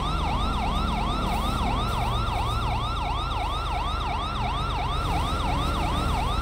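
An ambulance siren in the GTA V video game wails in a fast, steady up-and-down cycle, loud and continuous over a low engine rumble.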